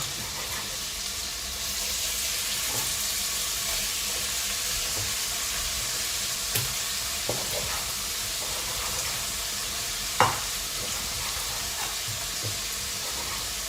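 Chicken pieces sizzling in a pan for green curry: a loud, steady, close-up frying hiss runs throughout, broken by a few sharp clicks and knocks as pieces are added.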